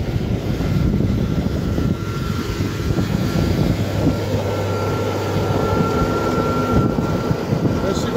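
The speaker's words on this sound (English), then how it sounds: "There she goes, lads. The 6210R John Deere." A John Deere 6210R tractor driving past, its engine producing a steady, fairly loud low drone with a faint hum that holds for the full eight seconds without letup.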